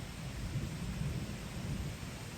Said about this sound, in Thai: ฝนตก